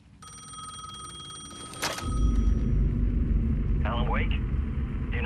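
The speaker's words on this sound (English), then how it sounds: "The payphone was ringing again." Payphone ringing in Alan Wake 2, a steady electronic bell ring through the first two seconds, then a deep rumbling drone takes over, with a brief voice near the end.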